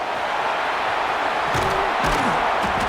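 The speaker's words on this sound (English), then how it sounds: "And here comes the noise. This crowd is trying to inspire this defense to make a big red zone stop." Steady roar of a college football stadium crowd during an Ohio State versus Florida State game, building noise for a red zone defensive stand, dense and continuous, with faint shouts rising near the end.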